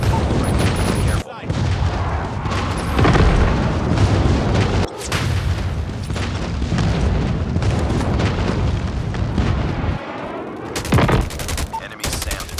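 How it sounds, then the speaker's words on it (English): Napalm strike explosions in the video game Call of Duty: Mobile, Ground War mode: loud, continuous booms and rumbling blasts mixed with bursts of gunfire, dense and sustained, with a game voice speaking over the barrage. "Enemy napalm has been deployed."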